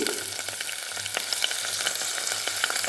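Shallots, garlic and green chillies frying in a pan, a close, steady sizzle with small crackles and occasional stirring taps, heard alone without talk.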